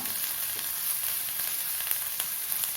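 Onions sautéing with salt in a pan for a spicy red chilli dal, giving a steady, close sizzle that holds an even level throughout with faint stirring ticks and no voices.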